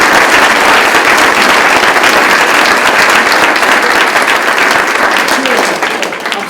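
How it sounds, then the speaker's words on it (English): Loud, sustained applause from an audience at a school board meeting, many hands clapping densely and evenly, close and full, easing slightly near the end, with faint voices mixed in. "so let's give him a round of applause"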